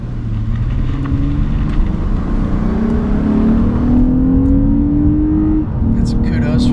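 A 2015 Lexus RC350 F Sport RWD being driven on the road, its engine note droning and steadily rising in pitch as it accelerates, loud and close inside the cabin, with a brief drop before climbing again; people talk over it.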